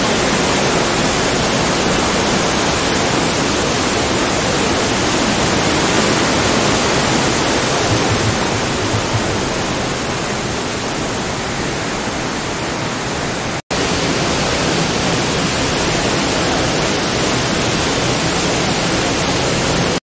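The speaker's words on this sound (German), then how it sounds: "Was für ein Wasserfall." A waterfall in Sapadere Canyon near Alanya, Turkey roars as a loud, steady broadband rush of falling water, continuous and close, with a brief cut partway through and no talking.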